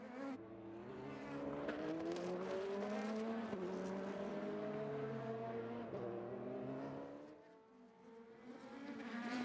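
Race car engines at the Edmonton street race roar loudly and continuously, pitch climbing under heavy throttle down the straightaway, briefly easing before building again near the end.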